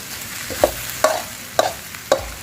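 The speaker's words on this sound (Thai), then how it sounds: "ผัดประมาณนาทีครึ่งสองนาทีครับ ให้ตัว หอมใหญ่กับ ตัวใบคะน้ามันสุก" Marinated chicken stir-fried with onion and kale leaves in a pan, four sharp utensil scrapes and clacks at an even pace over a steady background sizzle, close and fairly loud.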